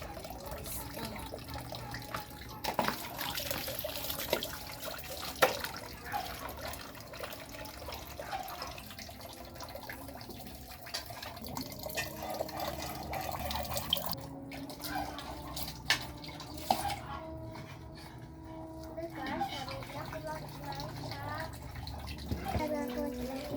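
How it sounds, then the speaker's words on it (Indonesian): Long beans are washed under a running tap, with steady splashing water, drips and occasional clatter throughout, close and continuous. "saya maunya nyuci kacangnya"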